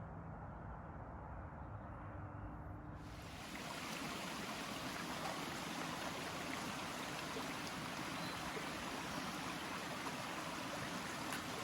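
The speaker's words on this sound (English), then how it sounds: "We just stopped by this little stream and Paul's getting some water." A small trailside stream in Maryland near Bear's Den on the Appalachian Trail, its steady broadband rush of flowing water rising after a quieter opening and running continuously and fairly close.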